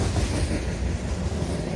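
A Wisconsin & Southern Railroad freight train passes at night, a dense, steady low rumble and roar of rolling wagons, close and continuous with no other sounds.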